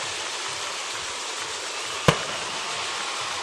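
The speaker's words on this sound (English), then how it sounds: "There's the cannon." A single sharp cannon blast cracks out over constant crowd roar at a high school playoff football game, a short loud boom that decays quickly amid the stadium noise.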